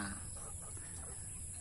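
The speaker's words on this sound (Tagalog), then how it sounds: "Ito meron ng manok." Chicken clucking softly behind a house, a steady low murmur of hen sounds that stays faint and continuous throughout, with no talking.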